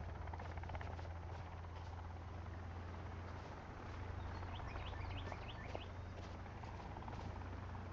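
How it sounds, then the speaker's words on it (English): Helicopter flying overhead in the survival game Sons of the Forest, a steady low rotor drone beneath a forest bed of birdsong and ambient wind, continuous and fairly faint throughout. "Oh, I hear a helicopter."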